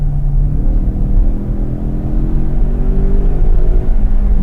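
Race car accelerating hard out of a track corner, engine rumbling loud and close with rising harmonic whine as revs climb steadily, continuous throughout.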